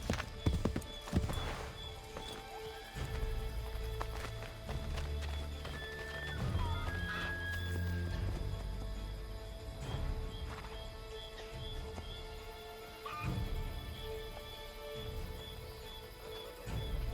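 Horses trotting in the video game Assassin's Creed 3 Remastered, a steady clip-clop of hooves running close by for the whole stretch, with an occasional neigh and game music underneath.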